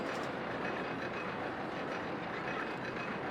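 Roller coaster cars in the Rollercoaster Tycoon video game run down a drop, giving a loud, steady rumbling rattle that holds unbroken for a few seconds.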